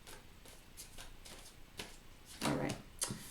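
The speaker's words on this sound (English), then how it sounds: "One more shuffle." Tarot cards being shuffled by hand, a run of soft riffling and flicking bursts that grows louder toward the end, close and alone with no talk.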